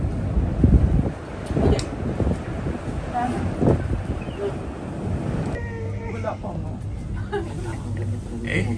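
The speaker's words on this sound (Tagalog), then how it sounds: "Lakas ng hangin!" Strong wind buffets the microphone at Ngong Ping, a loud, steady roar of gusts that shifts in tone partway through, with no clear speech.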